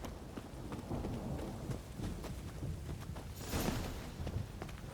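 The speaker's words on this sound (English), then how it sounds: "Rain again." Rain falling in The Witcher 3 video game, a faint steady hiss of rain on surfaces with scattered drop taps and a soft swell near the end.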